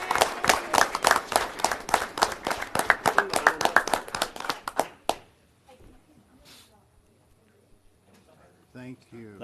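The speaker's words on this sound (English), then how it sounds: "Let's give them one more round of applause." Audience at a board meeting gives a round of applause: a few seconds of sharp, quick hand claps that thin out and stop about halfway through, followed by near silence and a brief voice near the end.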